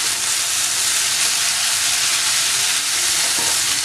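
Onions and masala for chilli bread sizzle steadily in a hot pan, a dense continuous frying hiss close up with faint stirring, and nobody speaking.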